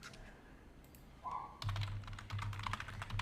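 Typing on a computer keyboard: after a quiet start and a brief tone, rapid clustered key clicks with a low hum underneath, close and clear, no talking.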